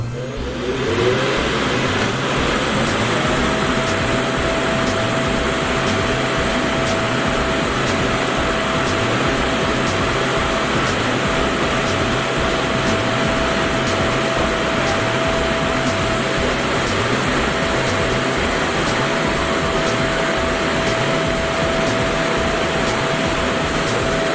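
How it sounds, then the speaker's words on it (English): Blower inflating an inflatable paint booth in a shop bay, a loud steady motor drone that spins up at the start and settles into a continuous rushing whine with a constant tone, no voices. "It only took about 7 minutes to inflate the booth."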